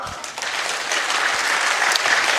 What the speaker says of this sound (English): use your hands to warm yourself by clapping like you actually own your hands